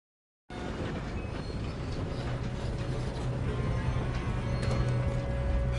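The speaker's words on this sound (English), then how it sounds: "we need to stop this train" A moving train in a video game rumbles and clatters steadily, with rhythmic mechanical rattling and metallic squeals that start suddenly and grow slightly louder.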